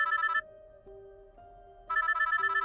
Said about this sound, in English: I stared at my phone as it rang.